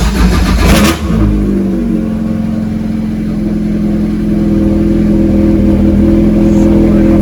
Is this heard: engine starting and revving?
yes